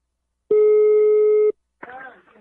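A telephone ringing tone on a prank call, one steady electronic tone lasting about a second, loud and clean, followed after a short gap by a voice speaking.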